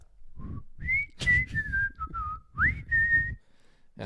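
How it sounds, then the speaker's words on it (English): A person whistles a catchy advertisement jingle, a melodic run of sliding, bright notes in short phrases, close and clear with no talk. "I've been whistling that for a decade now"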